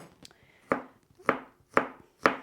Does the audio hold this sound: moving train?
no